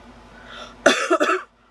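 A single close, harsh cough burst breaking into a couple of quick rasping follow-ups, preceded by quiet background hum.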